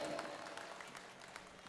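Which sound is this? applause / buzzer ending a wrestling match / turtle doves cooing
applause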